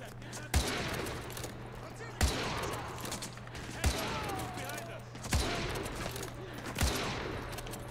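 Five evenly spaced heavy gunshots from a single weapon in Call of Duty: Modern Warfare 2, each a loud sharp report, ring out over steady game background noise and a low hum while voices talk between them.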